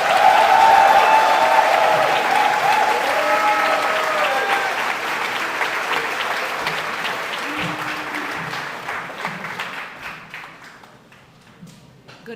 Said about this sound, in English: I would like you all to give a loud and thunderous Bowie State welcome to Congresswoman Carol Miller.